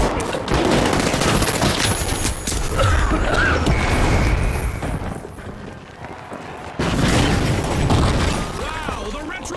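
Explosion from a planted charge in the video game The Finals, a dense roar of blasts and crashing debris mixed with gunfire-like bursts, loud and sustained through most of the stretch, with a voice talking over it.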